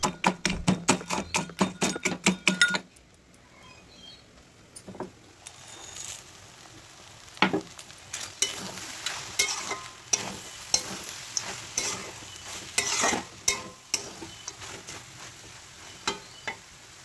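Crushed bori lentil dumplings frying in a kadai, opening with a rapid run of rhythmic scraping stir strokes, then a lighter sizzle broken by irregular clinks and scrapes of a spoon against the pan, close and without talk.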